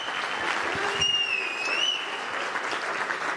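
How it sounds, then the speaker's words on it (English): A gala audience breaks into sustained applause, with many hands clapping steadily and a brief high tone sounding over the clapping partway through. "Give yourselves a big round of applause."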